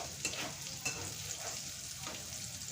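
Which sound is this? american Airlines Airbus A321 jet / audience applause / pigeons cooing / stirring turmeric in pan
stirring turmeric in pan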